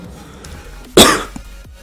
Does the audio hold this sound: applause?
no